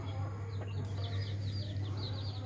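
Chicks chirp in short, high repeated peeps over a steady low hum, moved aside while a new coop is built, their calls near and intermittent.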